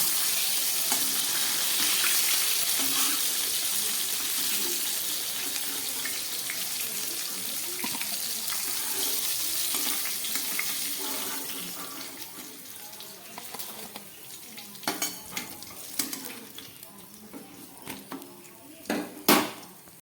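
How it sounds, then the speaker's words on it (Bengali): Fish fries in hot oil in a pan for a thin fish curry, a steady close sizzle that fades partway through, followed by scattered utensil clinks and clatters as the pieces are lifted out. "মাছগুলো একদম ভাজা হয়ে গেছে আমি তুলে ফেলছি"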